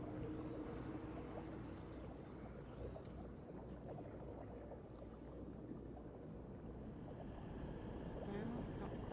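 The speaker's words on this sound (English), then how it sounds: "No, that just is the waterfall, I believe." Steady, full rushing roar of a waterfall in the video game Guild Wars 2, heard dark and close, continuous through the whole stretch with slight swells near the end and faint game sounds above it.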